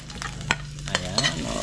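Ginger sizzles in hot oil in a pan, a close steady frying hiss broken by a few sharp scrapes and clinks of a utensil over roughly two seconds, with no talking.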